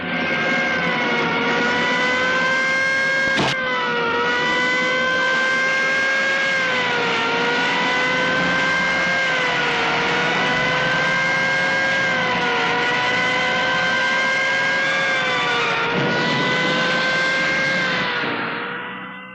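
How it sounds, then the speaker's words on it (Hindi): A car engine in an old Hindi film scene runs loud and close for nearly twenty seconds, its droning tone rising and falling as it revs and pulls away, with a sharp click early on and a fade at the end. "गाड़ी स्टार्ट करो, चलो।"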